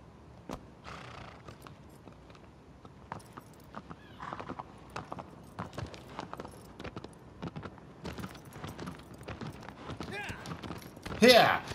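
A horse in the game Shadow of the Colossus, hooves clip-clopping in a steady rhythm that quickens toward a gallop, with an occasional whinny, mostly faint, while a person talks over it.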